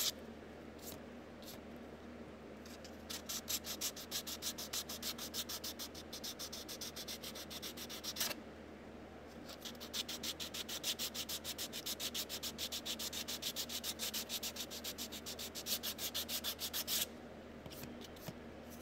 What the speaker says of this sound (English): So we can sand this joint back smooth.